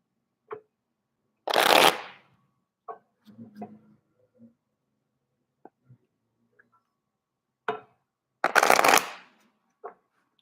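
Tarot cards are shuffled in two brisk, close riffling bursts, separated by scattered soft taps and handling clicks of the deck in an otherwise quiet room.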